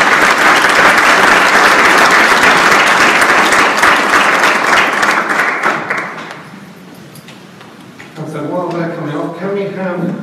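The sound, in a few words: audience applause at a conference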